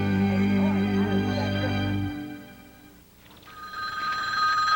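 A telephone rings in a 1988 Bell Atlantic TV commercial, a loud electronic warble opening the spot, then a brief quiet dip before a brighter, higher tone comes in.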